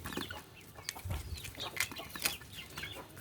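Several chickens cluck and chatter nearby in short, irregular bursts, with soft rustling in the background.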